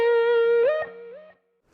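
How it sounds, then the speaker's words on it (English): A sustained electric guitar note rings out through a delay effect, repeating as fading echoes before trailing into silence. "Right there, you can hear that the delay happening."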